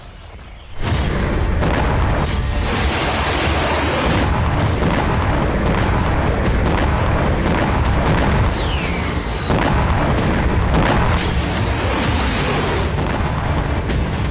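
Heavy, continuous rumbling booms roll on without pause, a dense wall of distant explosions and blasts in Crimea with a faint whistle cutting through partway.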